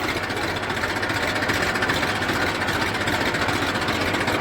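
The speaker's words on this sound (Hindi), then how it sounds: "ये रिवर्स में ट्रैक्टर चल रहा है।" A Massey Ferguson 1035 tractor runs in reverse, its engine giving a steady, continuous mid-pitched drone with a dense, even rumble throughout, close by and without talk.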